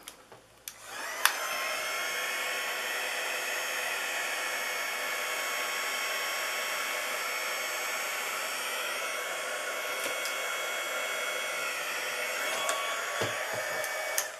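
A handheld air blower like a hair dryer switches on and runs steadily to dry alcohol ink on acetate, a loud constant whooshing whir held for over ten seconds with a few small clicks.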